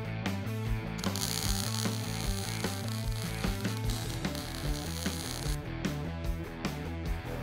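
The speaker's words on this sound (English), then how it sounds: "Here is an improvised arch maker. I need to create a radius around those tires." Steel tubing is rolled through an improvised arch maker in a garage dune buggy build, giving a steady run of loud, rhythmic ratcheting, clanking metal with no talk.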